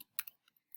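A few quick, quiet keystrokes tapped on a computer keyboard while entering numbers, soft isolated clicks close up with no talking.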